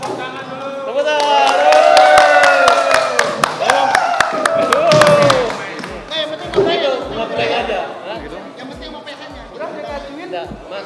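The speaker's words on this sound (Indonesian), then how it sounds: "Tepuk tangan dulu." An indoor audience at an Indonesian televised talk show breaks into loud, sustained applause with cheering voices. The clapping thins into a few sharp, scattered claps near the end.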